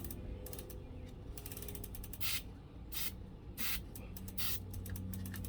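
Short bursts of spray lubricant hiss onto an electric step-through bike chain, several separate blasts over a steady ratcheting click as the pedals are turned backward, all close and with no talk.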